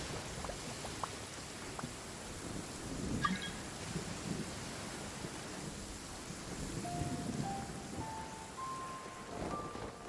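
Rain in the Genshin Impact video game falls in a soft, steady patter, with a low distant rumble of thunder and a few faint tonal game chimes, no speech.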